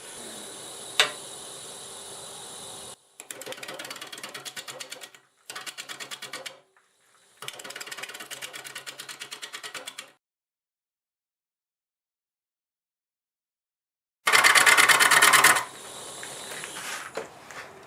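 Wood lathe spinning an out-of-balance redwood crotch bowl blank at about 600 RPM, rhythmic mechanical clattering in bursts broken by silent gaps, with a louder burst near the end.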